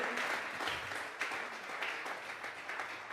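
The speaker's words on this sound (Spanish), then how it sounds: "Vamos a regalarle ofrenda de palmas al Dios de la gloria." A church congregation applauding during a Sunday service, sustained dense clapping heard at a moderate distance, rising and falling slightly over a few seconds.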